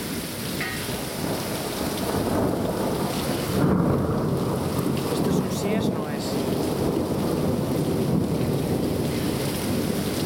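Thunderstorm with very heavy, intense rain pouring down, a loud steady roar of rainfall with low rumbling thunder swelling in the middle, wind buffeting the microphone throughout.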